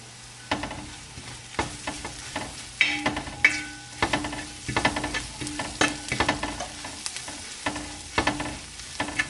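Ginger and garlic sautéing with turmeric powder in a pan for Kerala-style crab roast, with repeated spatula stirs and scrapes over a low steady sizzle, close and moderately loud.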